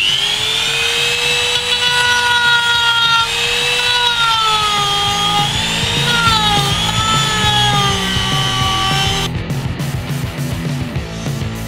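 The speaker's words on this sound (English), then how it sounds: "going to be cutting our hole out using a rotary tool with a sanding bit" A high-pitched rotary tool with a sanding bit whines steadily with shifting tones as it grinds and cuts a hole for a voltage meter, loud and close, then stops abruptly near the end.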